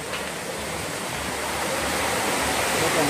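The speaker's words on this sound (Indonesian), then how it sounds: "Ini tepat di pinggir sungai," Steady, loud broadband rush of a river flowing right beside a rural house in Kampung Cingkeuk, Cianjur, a continuous close wash of water with no pauses.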